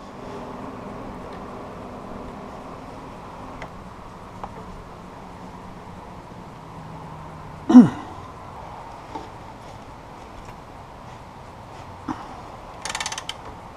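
Seized joints on a DR field and brush mower being worked back and forth after penetrating oil, giving faint mechanical creaks and clicks over a low hum, with one sharp metallic clack midway and a few brief rattles.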